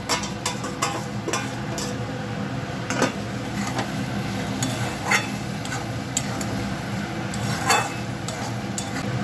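Pumpkin pieces sizzle and fry in hot spiced oil in a pan, a steady close crackle with a few sharper stirring scrapes and clinks, no voices.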